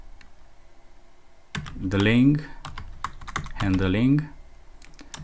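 Typing on a computer keyboard while coding in Python: scattered sharp key clicks sound under and between a man's close speech.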